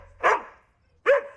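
A dog barks twice, close and loud, in a TV sitcom scene: two short sharp barks about a second apart, with quiet between them and no talk.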